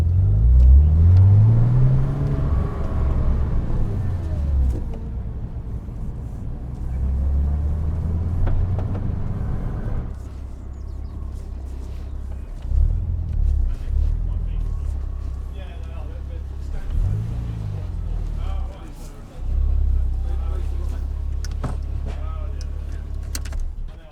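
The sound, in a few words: Porsche Cayman 987 engine accelerating on track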